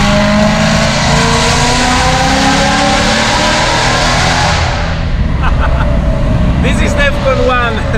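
A BMW M3 fitted with an Armytrix exhaust roars loudly in a tunnel, a continuous dense engine and exhaust drone that eases slightly partway through, with a voice speaking over it.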